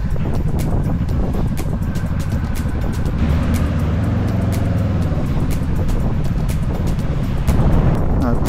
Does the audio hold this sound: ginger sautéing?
no